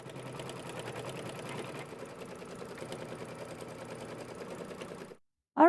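A sewing machine runs a steady, fast stitching whir while finishing a quilted crown on a mini quilt, continuous for about five seconds before stopping abruptly, followed by a brief loud clunk.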